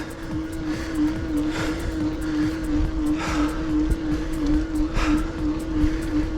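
Hiboy P7 electric scooter climbing a steep 28 degree hill at low speed in its lowest gear, giving a steady motor whine with rumbling wind and road noise and occasional thumps.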